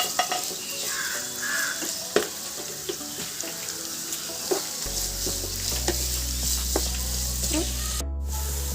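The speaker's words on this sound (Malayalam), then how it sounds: "മാങ്ങ ഇഞ്ചി കൂടെ കുറച്ച് സമയം ഒന്ന് വയറ്റി കൊടുക്കാം" Chopped mango and ginger sizzle and are stirred in a pan for a mango-ginger-kanthari chilli pickle, with steady frying hiss, occasional spoon scrapes and clinks, and a low hum joining partway through.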